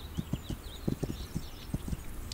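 A horse clip-clops at a steady gallop in the video game This Land is My Land, with rhythmic hoofbeats close and moderately loud over a light ambient background.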